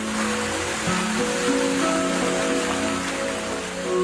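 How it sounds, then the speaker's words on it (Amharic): Steady rain pours down in an Addis Ababa neighbourhood, a dense even wash of patter on surfaces with no voices, constant and fairly close throughout. "ዝናብ መጣ"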